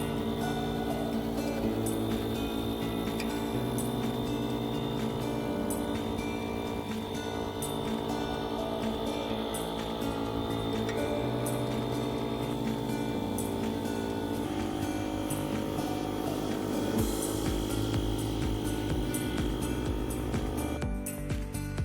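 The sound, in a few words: electric pump inflating a stand-up paddleboard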